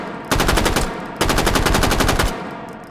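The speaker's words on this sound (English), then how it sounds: "I have this just set up to only fire in full auto, but it's a slow enough cyclic rate that squeezing off single shots shouldn't be an issue" Two close, loud bursts of rapid full-auto fire from a WW2 machine gun in the H3VR virtual reality game, each burst about a second of evenly spaced shots at a slow cyclic rate, separated by a brief pause.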